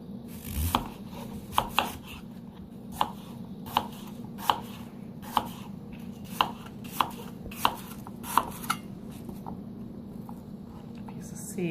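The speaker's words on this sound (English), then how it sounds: "I'm just cutting mine in like little cubes there." A knife chops apples into little cubes on a board, sharp regular knocks about once a second over a low steady hum, while someone speaks softly.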